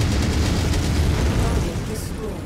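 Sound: chain cannon firing in MechWarrior 5 Mercenaries video game

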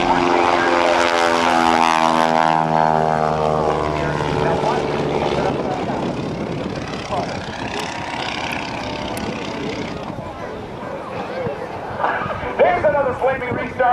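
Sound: Stearman biplane propeller engine in flight

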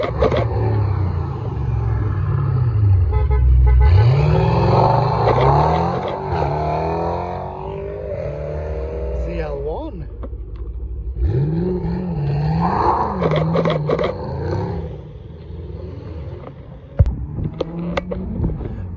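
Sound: car with aftermarket Novatek exhaust pipes

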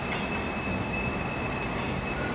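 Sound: tram wheels squealing on the track

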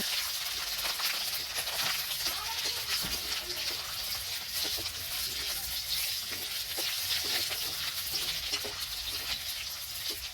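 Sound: garlic, green chilies and dried chilies frying in oil

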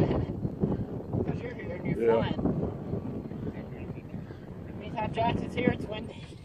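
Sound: wind while out on the water

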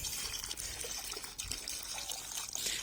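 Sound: water rinsing out water heater tank

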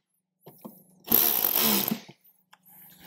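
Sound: tightening a bolt on a Harley Davidson speaker mount

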